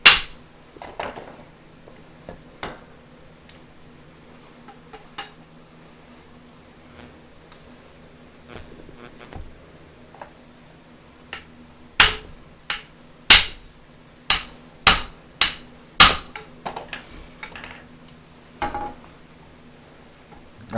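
Hammer blows on the front axle U-joint of a 2004 Dodge Ram 2500, sharp metallic strikes that start sparse and soft amid light shop clatter, then a loud cluster of about eight hits in quick succession.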